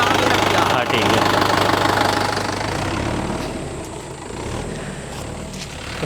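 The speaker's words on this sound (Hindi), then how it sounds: "भाई ट्रैक्टर में बैठना अपने बस का रोग नहीं है, पुर्जे हिल जाते हैं।" A tractor engine runs with a rough, knocking idle at a well-digging site, loud and close at first, then easing slightly, with a person talking over it.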